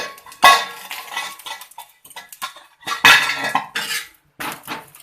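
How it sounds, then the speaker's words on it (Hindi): A metal bowl set over a pan as a cover, with loud close clanks and scrapes of metal on metal in several bursts separated by short pauses. "अब मैं इसमें कटोरी ढाप देती हूँ।"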